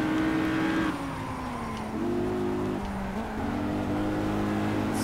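Caterham race car engine in the racing video game Project Cars, revving loud and close with gear shifts and rising, falling pitch, continuous through the clip without talk.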